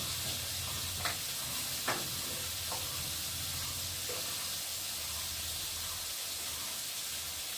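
Potatoes frying in a pan with grated ginger, turmeric, cumin and coriander powder give a steady, quiet sizzle, broken by a few faint clicks from stirring.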